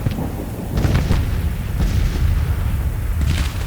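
Civil War artillery booms in a battle in Grand Tactician, deep cannon blasts rolling one after another over a constant low rumble of distant fighting, loud and heavy with no voices.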